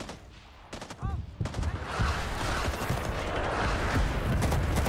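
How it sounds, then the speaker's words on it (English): Enemy artillery barrage in the video game Rising Storm 2: a dense, continuous roar of explosions and rapid gunfire builds after a few sharp early shots and stays loud throughout. "Looks like we are under enemy artillery barrage."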